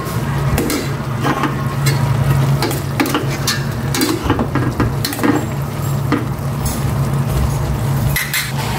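Bitter melon is stirred into pinakbet with pork in a sizzling pan, with scraping, clinking utensil strokes repeating over a steady frying hiss at close range and no voices.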